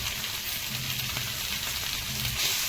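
Tomato pieces and tamarind sizzle softly in a pan of hot oil, a steady, even hiss at close range with no talking.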